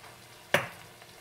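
Garlic is stirred into a hot frying pan, giving one sudden sharp sizzle burst that fades quickly over a quiet background hiss, close up with no talk.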